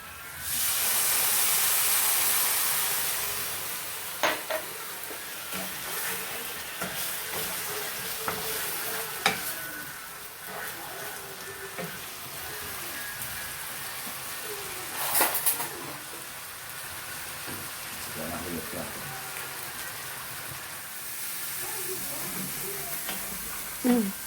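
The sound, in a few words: stirring arborio risotto rice sizzling in pan with white wine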